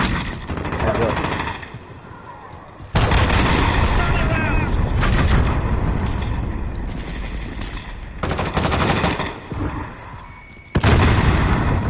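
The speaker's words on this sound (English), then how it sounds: "Enemy cruise missile incoming." Cruise missile strikes in the Call of Duty video game: loud, sustained blasts of explosions and rumbling gunfire that surge, fade slightly, then hit again, with a voice faintly under the din.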